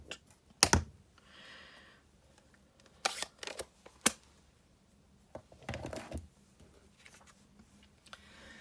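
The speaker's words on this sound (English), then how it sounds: "I'm going to get my trusty snips, and I'm going to cut it out." Trusty snips cutting a card image out of cardstock, heard as a few sharp, crisp clicks and crunchy snips spaced out by quiet pauses, close up with no talking.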